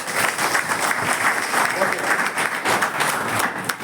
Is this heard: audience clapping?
yes